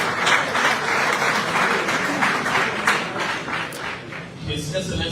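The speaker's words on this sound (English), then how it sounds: "Please put your hands together and welcome the president of the Press Union of Liberia." A hall audience applauds to welcome the president of the Press Union of Liberia, with dense, loud, continuous clapping throughout and voices talking over it.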